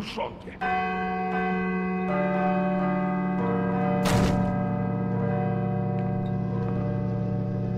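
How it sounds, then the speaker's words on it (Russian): A bell rings in the Call of Cthulhu video game, its deep metallic tolls striking repeatedly and layering into a sustained, resonant drone with a heavy thud partway through. "Сначала нужно, чтобы колокол перестал звонить."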